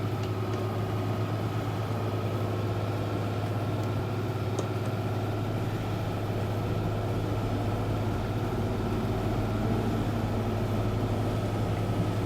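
A Claas Dominator 105 combine harvester runs in Farming Simulator 22, giving a constant low engine drone with a faint mechanical whir that holds steady throughout, with no voices.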